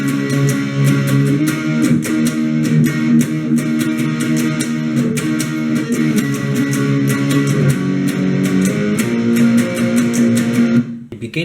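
A distorted electric guitar plays the verse, steady, rapid palm-muted strums that go on without a break. The playing is loud and close, with no talk.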